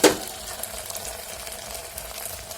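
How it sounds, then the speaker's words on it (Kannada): Vegetables frying in a pan with garlic paste, a steady soft sizzle running throughout after a brief louder clatter at the start, with no voices. "ಬೆಳ್ಳುಳ್ಳಿ ಪೇಸ್ಟನ್ನು ಹಾಕಿ ಫ್ರೈ ಮಾಡಿ ಚೆನ್ನಾಗಿ"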